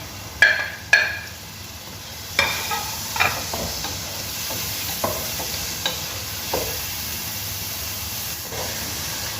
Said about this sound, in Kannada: ಟೊಮೆಟೊವನ್ನು ಸೇರಿಸಿ ಚೆನ್ನಾಗಿ ಫ್ರೈ ಮಾಡ್ಕೋಬೇಕು